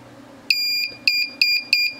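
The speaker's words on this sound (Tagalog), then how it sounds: "Tumutunog pag pinindot." DIY buzzer powered by four AA batteries at 6 volts, giving four sharp, loud electronic beeps in a quick irregular series when pressed, each a bright tone with a short tail, over a faint background hum.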